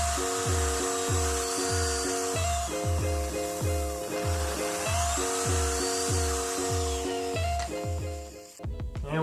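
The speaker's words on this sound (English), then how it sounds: "we'll use our template to drill into the end grain so we don't split it out" Power drill boring into the end grain of a wooden stool leg through a template, with repeated short whining bursts in a steady rhythm and a brief clatter at the end, close and loud.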